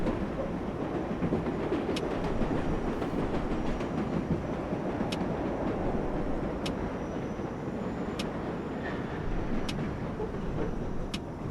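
A New York subway train on the number 7 local line in the World of Subways 4 game runs with a steady loud rumble and wheel noise, and faint high squeals and clicks recur at intervals.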